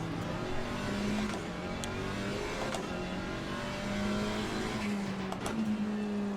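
A GT4 race car's engine in Assetto Corsa Competizione drones steadily through a lap, its pitch climbing and falling with shifts, with a few sharp clicks over the top and no talking.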